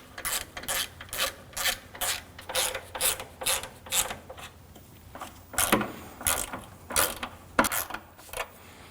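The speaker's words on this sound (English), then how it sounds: "Hold the bracket up while you tighten down the nuts." Bracket nuts are tightened by hand on a 2013-2015 Subaru XV Crosstrek with the 2.0L H4 engine, giving a close series of quick ratcheting clicks in regular bursts.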